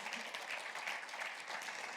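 Brief burst of applause from a church congregation during a Spanish-language sermon, a dense, even wash of many hands clapping at moderate distance with no voices over it.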